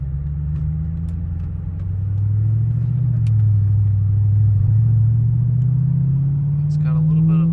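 A Mercedes E55 AMG engine runs and pulls away with a slight stumble, a deep steady rumble that swells as the car gets moving, with a brief voice near the end.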